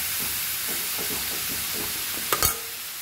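Chicken gizzard frying in Goan recheado masala in a pan, a steady soft sizzle with faint rhythmic stirring scrapes, then a brief sharper clatter near the end, close and alone.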